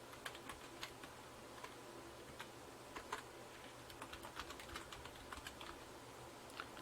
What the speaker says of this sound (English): after typing down your email, click the start for free